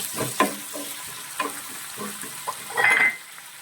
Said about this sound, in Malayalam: കറിവേപ്പില ഇതെല്ലാം കൂടി നന്നായിട്ട് ഇളക്കി യോജിപ്പിക്കുക